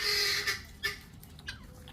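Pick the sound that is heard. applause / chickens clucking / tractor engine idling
chickens clucking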